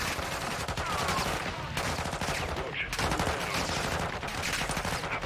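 Rapid automatic gunfire from the Call of Duty: Modern Warfare II video game, dense sustained bursts of shots rattling continuously at loud volume, with game sound effects mixed throughout.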